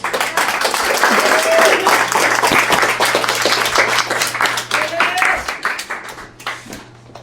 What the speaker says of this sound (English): and give a huge round of applause for Lili White.